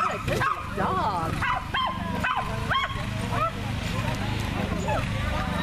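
A Shetland sheepdog barks at a coursing ability test, a run of sharp, close yips and barks repeating over steady outdoor noise while people talk and cheer.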